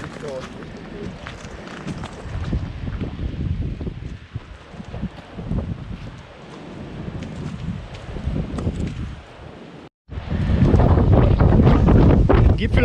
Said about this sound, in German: Gipfel erreicht, hier oben weht ganz schöner Wind.